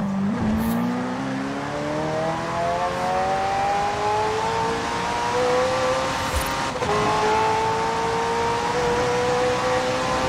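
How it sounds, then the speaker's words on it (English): McLaren hybrid twin-turbo V8 race car in Forza Horizon 4, engine note climbing steadily through a long pull and holding loud and close, a brief dip near the seven-second mark as the pitch resets and climbs again. "The car's blistering performance is delivered by a twin-turbo V8, supplemented by a McLaren ECU electric motor and instant power assist system."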